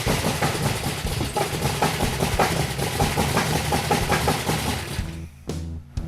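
A 1972 Dodge Charger engine with its ignition timing out cranks and runs roughly, loud and close, with a steady uneven churning that falters and drops away near the end.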